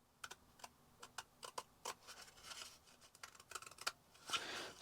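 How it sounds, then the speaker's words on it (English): Scissors snip through paper while paper plant pots are being made, a quick run of close, crisp clicks and cuts followed by a softer rustle of paper handling, with no talking. "Then take your scissors and snip about 1 inch"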